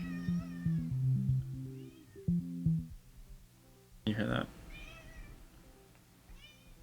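A house cat meows several times in short repeated calls, close by and fairly clear, with a person speaking briefly between the cries.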